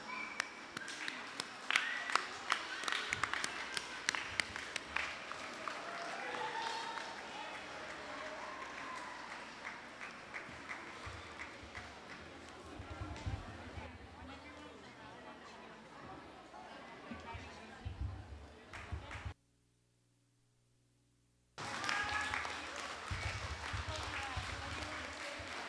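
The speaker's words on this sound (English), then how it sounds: "Let's give all these winners a big round of applause." An outdoor crowd at a canoe festival on Yap claps and cheers for race winners in long, moderately distant applause, with a voice and chatter mixed in and a brief gap of silence near the end.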